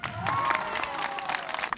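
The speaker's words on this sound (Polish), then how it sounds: "Jeszcze raz brawa dla niego." Brief burst of crowd applause with some cheering and voices at an outdoor community event in Milanówku, a quick, lively patter of clapping mixed with scattered voices.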